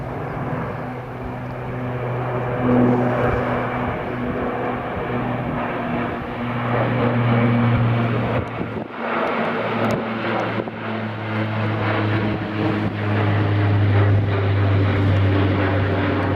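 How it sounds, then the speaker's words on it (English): A Flybe Q400 turboprop airliner rolls down Edinburgh Airport's runway on its takeoff run, a loud, steady propeller and engine roar with a strong low drone that holds for the whole stretch and swells again near the end. "we've got the Flybe-8 Q400, the return of Flybe. That's just rolling down the runway."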